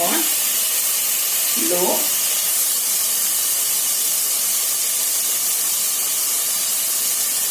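Carrot and beans fry in a hot pan for homemade egg fried rice, giving a loud, steady hissing sizzle close up. A voice speaks briefly at the start.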